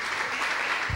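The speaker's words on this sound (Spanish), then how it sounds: "¿Cuántos aplauden al Señor?" Brief, steady applause from a church congregation, dense clapping filling the moment without pause.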